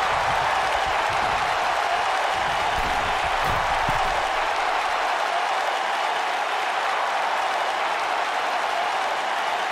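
Arena crowd in the wrestling video game WWE 2K19 roars and applauds continuously for the full stretch, a loud, dense wash of cheering with some low rumble early on and no commentary over it.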